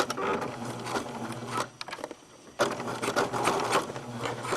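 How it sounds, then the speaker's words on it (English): Sewing machine stitching along a fabric edge to form an elastic casing, a close, fast buzzing whir running steadily, pausing briefly midway, then resuming at full pace. "I'm going to sew just along the edge here."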